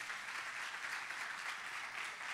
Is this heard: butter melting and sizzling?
no